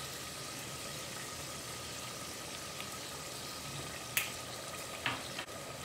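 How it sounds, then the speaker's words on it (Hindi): Chopped tomatoes and chili flakes fry for chicken biryani, giving a faint, even sizzle with a few soft clicks near the end and no voices. "और इन सब चीज़ों को अच्छे तरीके से भून लेंगे।"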